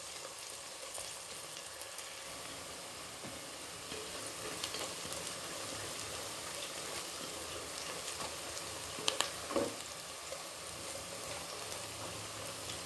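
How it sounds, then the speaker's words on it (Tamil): Onions frying until golden brown in a pan: a steady, dense sizzle with fine crackling throughout, fairly close, with a few brief stirring scrapes near the end and no talk. "வெங்காயம் நல்லா பொன்னிறமாக வறுத்துக்கணும். நல்லா வதங்கி வருது வெங்காயம்."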